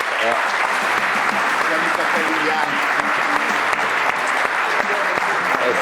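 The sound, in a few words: applause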